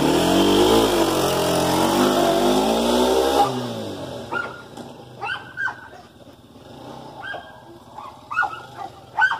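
A motocross dirt bike engine revs hard through the gears, its loud, rising tones climbing and stepping at each shift. The roar then cuts off abruptly, leaving quieter scattered noises and barks.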